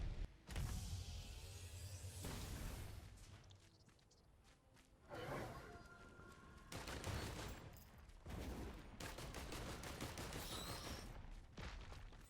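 Dense bursts of rapid gunfire from the Risk of Rain 2 VR game fill the scene, heavy and loud, with whooshes and impacts between volleys during a chaotic Monsoon-difficulty fight.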